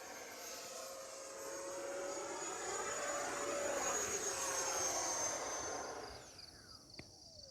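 A Horizon Hobby Viper 90mm electric ducted-fan RC jet flies past, its steady high-pitched whine swelling loud and close midway before dropping off sharply near the end, with no talk.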